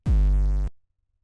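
Heavily distorted 808 bass hit with a low volume floor, a single loud sustained boom with dense buzzing harmonics that cuts off abruptly after about two-thirds of a second, leaving near silence.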